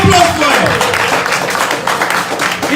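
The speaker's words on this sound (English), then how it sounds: "Round of applause for him." Audience at a fundraising event in Columbus, Ohio giving a round of applause, dense clapping close and fairly loud throughout, with faint voices mixed underneath.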